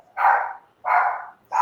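A dog barking in short, evenly spaced barks, close and loud, with near silence between them.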